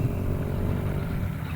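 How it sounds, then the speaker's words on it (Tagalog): Motorcycle engines rumble steadily and fairly close, a continuous low droning hum throughout with no voices over it. "Tunay duwa ka motorsiklo ng yabot."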